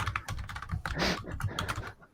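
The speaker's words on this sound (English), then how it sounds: "Keep typing." Rapid clicking of a computer keyboard during a holiday livestream, a fast, uneven run of close, crisp keystrokes that continues steadily with no talking over it.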